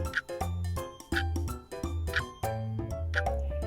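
A bright ding-dong-dang correct-answer chime for a children's church Sunday school quiz rings out as a few quick melodic notes over a low tone, repeating in short phrases with no talking.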